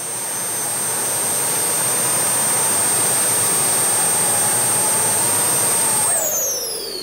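Jet pack's jet engines idling at their lowest setting, a loud, steady broadband roar with a high whine that holds for several seconds, then shifts pitch near the end.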